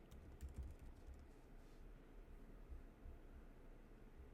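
Faint tapping of keys on a computer keyboard, a short run of quick keystrokes over a soft steady background hiss, with no voice.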